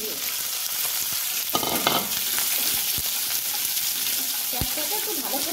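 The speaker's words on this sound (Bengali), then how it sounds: "পেঁয়াজটাকে একটু ভালো করে লাল করে ভেজে দেবো" Two chopped onions fry steadily in a pan with a loud, continuous sizzle, broken by occasional scraping stirs and light utensil knocks.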